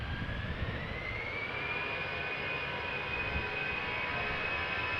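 A 24-year-old Boeing 747-400 freighter at Amsterdam Schiphol Airport roars steadily with a broad, loud jet engine rumble and a rising turbine whine held throughout, continuous and close.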